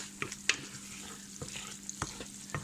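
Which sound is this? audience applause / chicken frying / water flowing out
chicken frying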